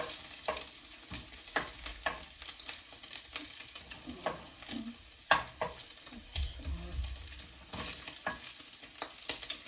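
Bacon frying in a pan with steady sizzling and crackle, broken by scraping stir strokes and occasional clatters of a utensil against the pan, close and moderately loud.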